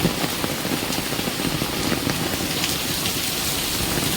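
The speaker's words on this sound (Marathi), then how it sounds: "आवाजावरून तुम्ही ओळखत असाल की पाऊस किती पडतो" Heavy rain hammers down close by in a loud, steady, hissing downpour with no talk.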